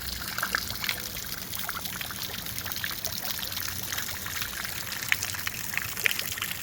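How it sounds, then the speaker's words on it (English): Small street fountain splashing water on a town street, a steady close wash of trickling and pouring water with scattered brighter splashes throughout. "They got a nice little fountain on the street leading into town. Splashes all over you if you get close."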